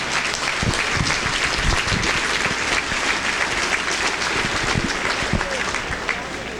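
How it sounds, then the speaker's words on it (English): Crowd applause at a state fair steer show, a dense, loud burst of many hands clapping continuously, with a few sharper claps standing out and murmurs of voices mixed in. "you better give them a round of applause"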